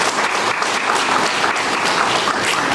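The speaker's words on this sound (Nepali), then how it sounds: "सबै साथीहरूलाई त्यो खुसियालीमा यहाँहरूले ताली बजाएर समर्थन गरिदिनु" Steady, dense applause from an assembled gathering of officials and elected representatives at a provincial capital ceremony in Nepal, many hands clapping continuously without a break throughout.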